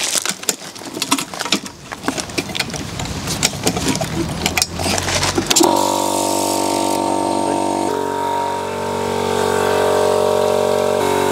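An old air compressor rigged up for bleeding the brakes on a British Corvette ZR-1 starts about halfway through and runs as a loud, steady motor drone with a mechanical whine, after a stretch of clanking workshop handling noise.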